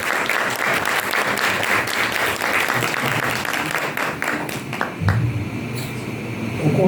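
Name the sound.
audience applause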